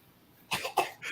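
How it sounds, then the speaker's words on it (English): A person coughs two or three times in a quick close burst after a brief quiet moment, loud and dry. "I've already coughed. I've disguised it each time."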